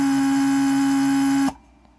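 A Mercedes 600SEL door lock vacuum pump runs on a bench test with a steady electric hum and whine, then cuts off abruptly with a click, leaving near silence.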